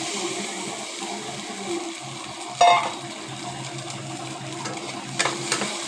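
Six beaten eggs being stir-fried in a pan, a low soft sizzle under scraping and clinking stirring strokes, with a sharp utensil knock midway and a few more taps near the end.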